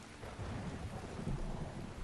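Rain pours steadily with low rumbling thunder in the video game Skyrim, a constant dense hiss alone with no voices over it.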